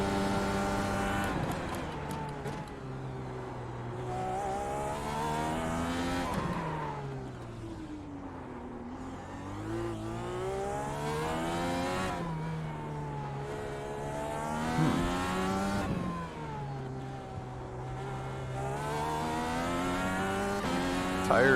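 IR-18 race car at Long Beach in iRacing, its engine revving up and down through repeated shifts and braking, with strained tire noise mixed in, a continuous close onboard drone without speech.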